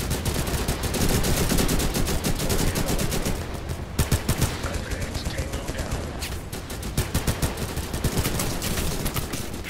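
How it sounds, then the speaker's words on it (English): In the video game Total Conflict: Resistance, machine guns fire constantly in loud, rapid bursts that overlap into a dense battle din, with sharp individual shots standing out toward the end. "All that machine gun fire right behind us is wonderful."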